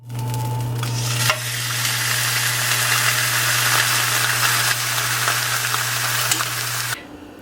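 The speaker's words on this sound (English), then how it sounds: "a really easy way to cook heart is just a simple sear on each side." Beef heart sears in a hot pan, giving a loud, continuous sizzle that stays close and steady for several seconds before cutting off abruptly near the end, with a low hum underneath.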